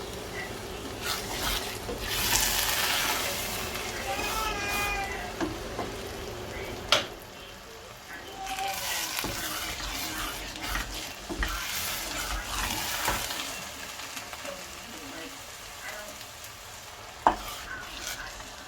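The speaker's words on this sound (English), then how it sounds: "It's still a little bit green, and you just want to fry it, to be honest." Ayamase stew sauce of green peppers fries in a pot with a steady close sizzle, stirred now and then, with a couple of sharp utensil knocks against the pot.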